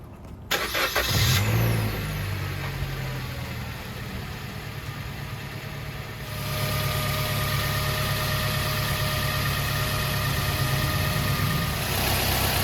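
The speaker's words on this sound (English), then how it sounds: "We're gonna have Elmer start the car." A 2012 Suzuki SX4 sedan's engine cranks and catches, then settles into a steady, loud idle that continues to the end.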